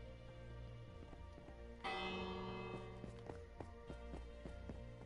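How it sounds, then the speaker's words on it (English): A bell rings in the Minecraft video game, a faint metallic clang that starts abruptly and lingers, mixed with soft footstep-like thuds in the background. "Being woken up by a bell, that's very not pleasant."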